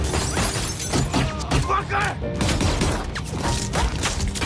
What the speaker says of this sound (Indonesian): Mendengar suara tembakan yang tak kunjung berhenti